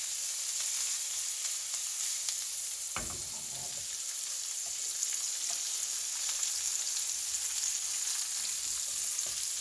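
Shrimp sizzle steadily in hot grease in a pan, a constant bright frying hiss with a brief clatter of the shrimp being moved around partway through.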